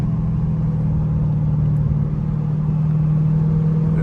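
Dodge Hellcat cruising at night with a steady, droning engine note and a faint supercharger whine held constant throughout, heard from inside the car with no talking.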